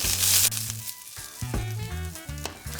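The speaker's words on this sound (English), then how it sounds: "Just gonna mix a little bit. Toss in with the garlic and the oil," Swiss chard stems are tossed and fried in a pan with garlic and oil, a steady close sizzle broken by stirring scrapes, with background music playing along.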